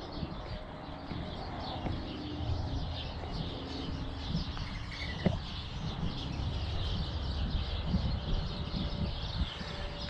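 Birds call and chirp at a desert oasis in Usery Mountain Regional Park, Arizona, scattered tweets and soft coos rising over a steady bed of rustling wind and background hiss.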